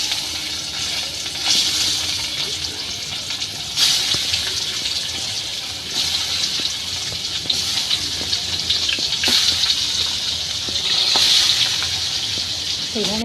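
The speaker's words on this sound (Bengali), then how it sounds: "রান্না করার আগে মাছগুলো মা মুচমুচে করে ভেজে নিচ্ছে" Koi fish sizzling in hot oil, coated in chili, turmeric, salt and garlic paste and fried until crisp, a steady loud hiss and crackle that swells in bursts through the whole stretch.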